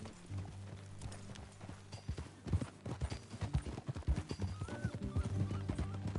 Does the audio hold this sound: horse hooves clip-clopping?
yes